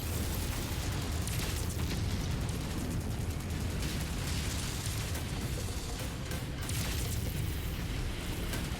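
Rumbling missile explosions in MechWarrior 5 roll on continuously and loud, a dense low boom-and-crackle barrage with no gaps across the whole stretch.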